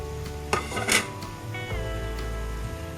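Semolina is stirred in a metal wok on a stove as the wok shifts and spins: scraping spoon strokes and a few sharp metallic clinks sit over a steady low hum, close at hand.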